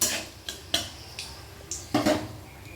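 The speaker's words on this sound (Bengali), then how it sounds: "সাথে দিয়ে দিচ্ছি সমস্ত কিছু তেলের মধ্যে একটু নাড়াচাড়া করে নেব" Whole cardamom, cloves and a little cinnamon stirred in hot oil in a pan for a mutton dish, giving a few separate metallic scrapes and clinks of utensil against pan, each brief and spaced apart, over a faint low hiss.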